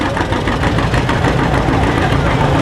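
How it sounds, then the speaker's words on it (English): A tractor with a straight stack exhaust idles close by, a loud, rough, steady rumble throughout with a faint voice underneath. "You can get a good idea of what the engine sounds like."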